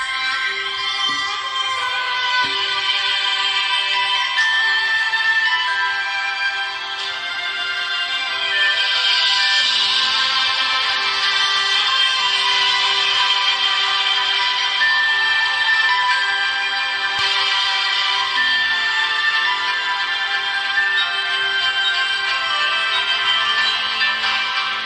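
A Samsung Galaxy A51's single bottom-mounted speaker plays bright, continuous music with a steady, fairly loud, trebly tone and no talking over it.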